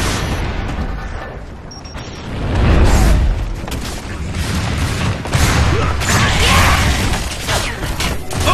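A frag grenade in Gears of War 3 going off amid a multiplayer firefight: heavy booming blasts around three and six seconds, with mechanical rattling and scattered gunfire throughout, loud and close.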